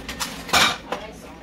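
A metal cooking pan handled on a stove, with a couple of quick clanks and scrapes, one louder knock in the middle, close and brief.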